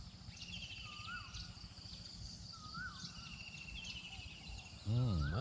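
A bird somewhere in Thailand gives a few short, rising-and-falling call notes at a steady pace over constant insect drone, followed by the start of a voice.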